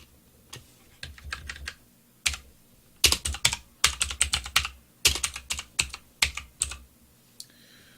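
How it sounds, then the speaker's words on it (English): Keys clatter on a computer keyboard while text is entered into a document, in quick bursts of close, crisp clicks separated by short pauses, with no talking. "I type in to the document"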